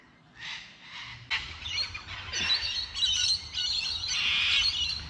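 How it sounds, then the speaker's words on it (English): Cockatoo and a smaller parrot squawk and call from treetops with white flowers on the NSW South Coast, harsh overlapping screeches building steadily louder through the clip with no talk. "So I think the smaller parrot and the cockatoo are fighting over, at the top of all these trees are flowers, white flowers."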